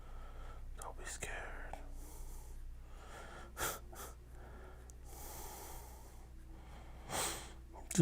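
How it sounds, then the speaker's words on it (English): Quiet close-up breathing and soft sniffs from a person inking art with an old-fashioned brush, with a few sharper breaths over a low, steady background hum. "You guys hear me breathing?"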